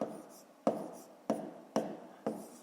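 A pen writes numbers on paper while a fifth-grade decimal multiplication exercise is worked, giving soft scratching strokes broken by four sharp taps at roughly half-second intervals, close and quiet.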